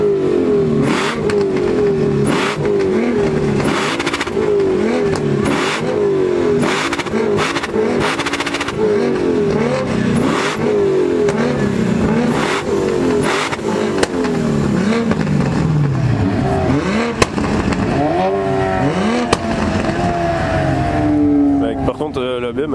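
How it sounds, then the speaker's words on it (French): A BMW car engine revs hard and repeatedly with an odd, rough note, the pitch rising and falling through a steady stream of bursts, loud and close, with people talking over it. "La BM elle fait vraiment un drôle de bruit et beaucoup de fumée qui sent bizarre"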